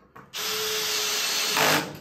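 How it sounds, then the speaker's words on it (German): Cordless drill whirring steadily as it bores deeper into a corner office desk during assembly, switched to a higher torque setting; a loud, continuous close-up whine lasting nearly two seconds after a brief click at the start. "weil hier müssen wir was tiefer bohren"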